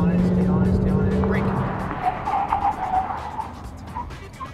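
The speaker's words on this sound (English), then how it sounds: "Slam on the brakes and stop the car as quick as you can" A car brakes hard during teen driver training, its tires squealing in a sustained skid that fades into road noise, with an instructor's voice talking over it.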